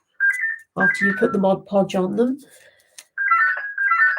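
A phone ringtone sounds for an incoming call, a short tonal melody at the start and again at the end, while someone speaks in between and partly over it during a live bottle decoupage craft session.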